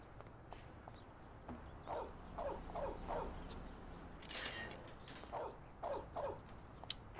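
A dog barks in the Mafia: The City of Lost Heaven video game, giving two short clusters of several barks each over steady background noise, moderately faint.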